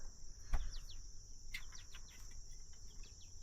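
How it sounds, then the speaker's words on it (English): Birds and insects chirp outdoors at a wet campsite, a few short chirps and calls scattered over a steady high insect drone, faint and distant, with one low thump early on. "but the birds are chirping."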